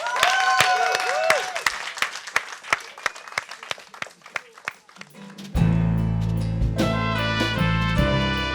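A live audience gives a band a round of scattered hand clapping at a Tulsa jam session, moderately close, before the band breaks into loud music.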